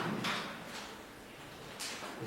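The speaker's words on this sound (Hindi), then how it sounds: "दरवाज़ा बंद होने की आवाज़ है।" Two brief knocking thuds of a door or drawer being shut inside a room, one early and one near the end, fairly close with faint room noise between.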